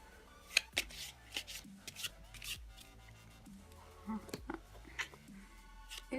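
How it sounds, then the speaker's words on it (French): Small packets of playing cards are shuffled one after another by hand, producing short, crisp flicking and snapping bursts with quiet pauses between them, close and fairly faint. "je vais justement mélanger chacun de ces paquets"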